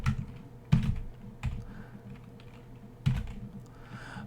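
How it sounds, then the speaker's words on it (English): Keys clack on a computer keyboard during a Vim editing session in Visual Studio Code, a few distinct close keystrokes and thumps over a low room hum, with no talk. "So you can type other stuff."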